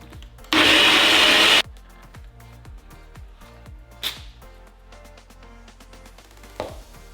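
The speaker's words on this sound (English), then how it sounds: "We'll go ahead and blend this bad boy" A blender whirs loudly for about a second while blending a sauce for butter chicken, then stops, followed by quiet kitchen clatter and a couple of short knocks.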